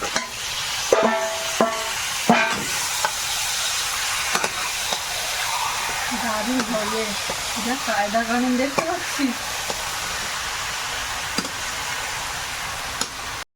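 Marinated chicken meat goes into hot spiced oil, setting off a steady loud sizzle and frying hiss with scattered scraping stirs and clatters close by, continuing throughout.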